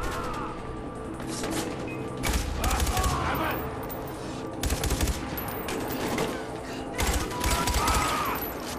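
Automatic gunfire in the video game Far Cry 4, fired from the hip in several loud rattling bursts separated by short pauses, with a voice talking faintly underneath.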